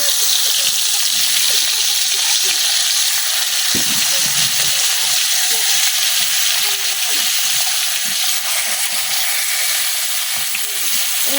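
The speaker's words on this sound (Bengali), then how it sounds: "তেলটা কিন্তু গরম হয়ে গেছে, এখন আমি মাছের পিসগুলো দিয়ে নিতেছি।" Rohu fish pieces frying in hot oil in a village kitchen, a steady dense sizzle and hiss running throughout with faint clinks beneath.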